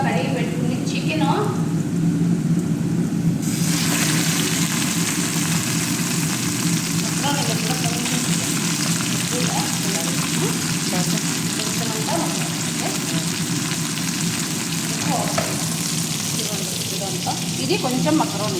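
Chicken pieces sizzle and fry steadily in a pan of browned ginger-garlic paste, a dense continuous crackle with occasional stirring scrapes, close and loud throughout.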